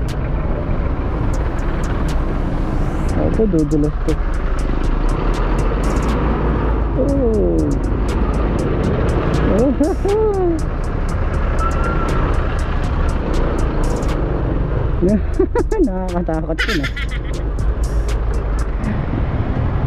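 Heavy road traffic around a rider on a Rusi Jetski 125cc motorcycle: a loud, constant rumble of car and truck engines and wind, with occasional passing vehicles, while the rider talks over it.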